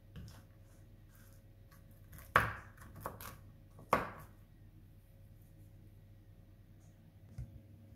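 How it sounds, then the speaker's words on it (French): A knife chopping walnuts into small pieces for peanut butter chocolate cookies, with two sharp close cuts against the board followed by a few lighter taps in an otherwise quiet kitchen. "je vais couper en petits morceaux donc les noix"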